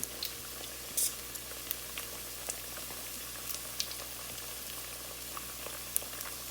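Empanadas fry in hot oil, giving a soft, continuous sizzle and bubbling with occasional sharp pops and crackles, quiet and close, with no talking.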